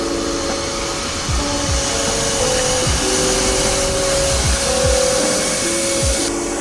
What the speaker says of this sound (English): Getting on with the hoovering and Bossman doing the tiles.